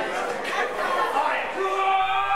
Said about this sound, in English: The crowd is just eating up this action